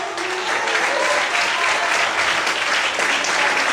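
Church congregation applauding during an evening worship service, a steady, dense wash of clapping from many hands that fills the room and holds at an even level throughout.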